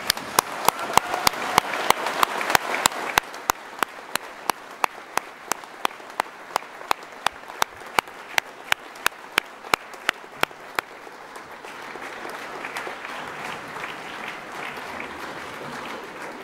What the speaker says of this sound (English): join me in a round of applause to say thank you to those who've